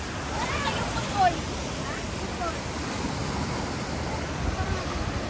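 Strong ocean waves at high tide near a coastal cave roar and wash in a continuous loud surge, with gusty wind buffeting the microphone throughout.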